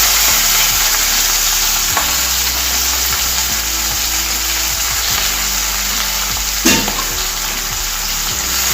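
Chopped onions, tomatoes and green chillies with ginger-garlic paste sizzle steadily in a pan, a constant hiss with occasional utensil scrapes and one louder clatter near the end, close up, no talk.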